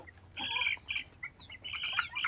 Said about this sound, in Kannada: ಹಾಗೆ ಇಲ್ಲಿ ನಮ್ಮದು ಕ್ವೇಲ್ ಬರ್ಡ್ಸ್ ಇದಾವೆ ನೋಡಿ.